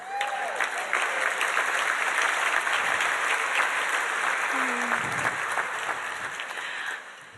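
Guests at a Heritage Society dinner give a graduate a full round of applause, a loud, continuous wash of many hands clapping that holds steady for several seconds before tapering off near the end.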